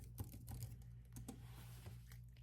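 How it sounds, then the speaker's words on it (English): Fingers tap on an iPad keyboard in a quiet room in a soft-spoken ASMR session, making faint, irregular clicky keystrokes with no voice. "I hope you enjoyed the addition of the iPad keyboard"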